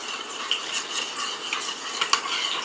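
A spoon stirs chocolate chips into heated cream to make a sauce for spiced banana fritters, giving soft scraping and light clinks against the pot, close and steady over a few seconds.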